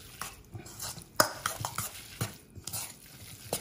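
Stuffing for a Moroccan fish tagine with sea bream and seafood is mixed with a utensil in a bowl, giving close, irregular scrapes and clinks in short strokes, one sharper knock near the start, with no talking.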